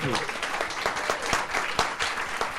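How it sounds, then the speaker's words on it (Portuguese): Dense applause from a large crowd, steady and sustained, filling the space with rapid overlapping claps. "a presença grandiosíssima de Sérgio Ricardo, a quem eu peço um aplauso imenso."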